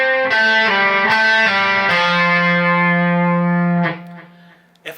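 An electric guitar with effects and distortion plays a measure of a solo: several quick picked notes, then a long sustained bend that rings before cutting off, loud and close.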